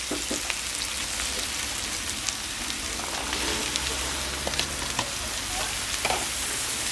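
Golden-fried meat sizzles hard in a kazan for plov as carrots go in, a dense, steady crackle with scattered clicks and scrapes of stirring close by.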